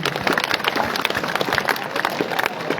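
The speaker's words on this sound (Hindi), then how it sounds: "एक दफा दोबारा तालियां मोहम्मद तौसीफ के लिए" A school audience applauds an essay competition winner with steady, dense clapping throughout, fairly close and without talk over it.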